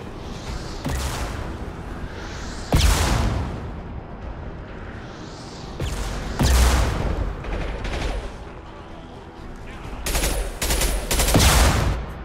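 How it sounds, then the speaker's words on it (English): Rocket launcher fire in the video game Mass Effect 2, with a series of sharp, loud blasts at irregular intervals, each trailing off into rumble between quieter stretches of game ambience. "That's a rocket launcher."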